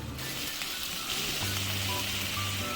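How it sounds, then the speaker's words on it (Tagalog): Squid sautéing in a pan with garlic and onion, alongside fried tofu: a steady close sizzle of frying fills the whole stretch, with faint clinks and stirring scrapes mixed in. "nagisa na lang din ako ng bawang sibuyas. Tapos nga sinunod ko na din agad yung pusit"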